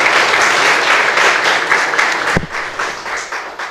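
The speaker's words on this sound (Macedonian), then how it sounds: "Јас би ве замоли пред се да го поздравите со еден аплауз" An audience at a book promotion for author Lazar Karov gives loud, dense applause that holds steady, then thins into scattered claps after a sharp knock.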